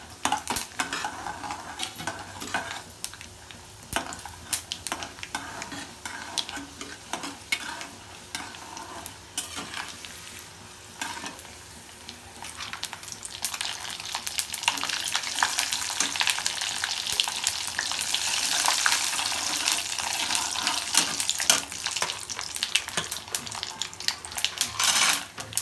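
Chana dal and mustard seeds fry in hot oil for lemon rice, a loud continuous sizzle with spatula stirring and scraping against the pan, growing more intense in the second half, no talking.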